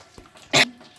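One short, sharp cough bursts out close by against a quiet background, set off by pungent fumes from hot tempering.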